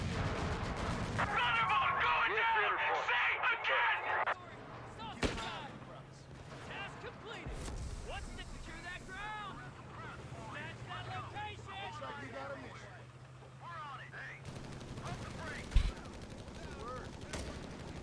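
Anti-tank gun fire in the WWII strategy game Company of Heroes 3, heard as sharp in-game blasts amid a dense layer of battlefield gunfire and rumbling, with a heavy report near the end and a voice talking over it.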